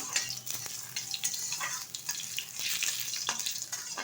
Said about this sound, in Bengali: এবার ভালোভাবে ভেজে নেব।